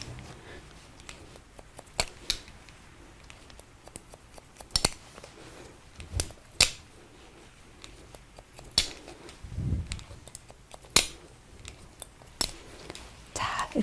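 Scissors point-cut hair with the blades held upright, giving sharp, sporadic snips close by, spaced irregularly under quiet talk.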